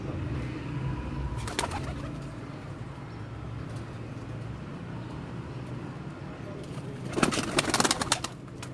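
Breeder pigeons coo softly in Mirpur, Azad Kashmir, with repeated low calls over distant traffic and brief voices nearby.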